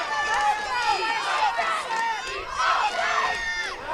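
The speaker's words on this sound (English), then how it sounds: "The crowd in front of us that's yelling for a penalty." A high school girls flag football crowd yells and shouts continuously, with many overlapping voices rising in waves, loud and dense throughout, while a commentator talks over the noise.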